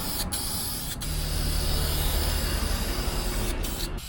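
Gloss black epoxy enamel sprays steadily from an aerosol can onto the chassis of a 1997 LN106 Toyota Hilux, a continuous close, loud hiss with a couple of brief pauses between passes.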